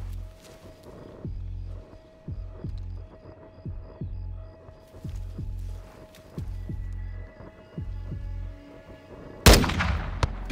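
Game gunfire from a Modern Warfare 2 campaign firefight: repeated single shots at a steady rhythm over a low rumbling bed, ending with a sharp, louder burst near the close.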